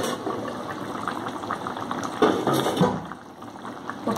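Soybean and potato curry bubbling in a pan as the lid is lifted, a steady close hiss and simmer with a brief clatter partway through and no talking.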